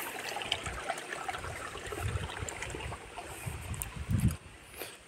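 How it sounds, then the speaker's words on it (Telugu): Natural hill stream water flowing on a forest trek near Ahobilam, heard as a steady close rushing and trickling wash with a few louder splashes, no voices. "ఇది మొత్తం కొండల నుంచి ఫ్లో అయి వస్తూ ఉంటుంది వాటర్."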